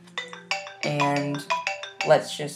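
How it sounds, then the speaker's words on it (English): A mobile phone ringtone plays a stepped melodic series of bright electronic notes close by, while someone talks over it. "sorry guys, that was my phone"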